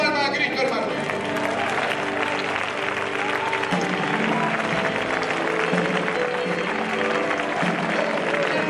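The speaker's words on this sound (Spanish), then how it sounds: "¿Cuánto le dan palmas a Cristo, hermano?" A church congregation claps together in sustained applause, dense and continuous throughout, with voices mixed into the crowd noise.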